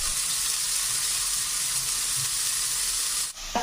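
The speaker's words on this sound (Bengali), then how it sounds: "পেঁয়াজের কাঁচা গন্ধটা ছাড়িয়ে নিয়ে দিলাম আদা বাটা।" Ginger paste sizzling in hot oil with onion paste, garam masala and bay leaf, a loud steady hiss that continues evenly and then cuts off abruptly near the end.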